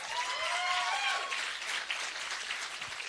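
An audience at a filmmaking challenge event claps and applauds loudly and steadily, with a few whoops and cheers rising over the dense clapping throughout.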